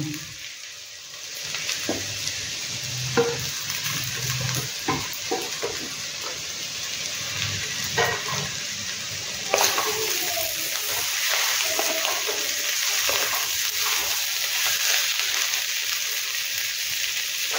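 Eggplant pieces sizzle and crackle in a hot pan with mustard paste and vegetables, with scraping stirs and clatters of a utensil throughout, steady and close, and a brief voice in the background.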